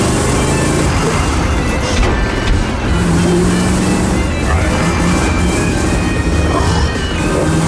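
Cartoon tractor and dump truck racing side by side, a loud continuous roar of engines and rumbling motion with clattering crashes mixed in, dense and steady throughout.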